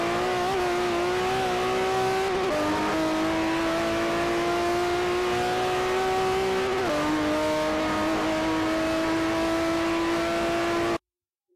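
A race car in Forza 4 at Le Mans brakes for the chicanes, its loud steady engine tone stepping down twice with sharp downshifts and then cutting off abruptly at the end.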